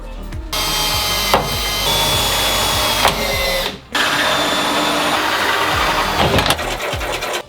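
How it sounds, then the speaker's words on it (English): A power drill bores holes for a rear wing on a Subaru WRX STI, whining loud and close in long steady runs with a couple of short stops and a final burst. "So now we know where we can mark and drill our holes."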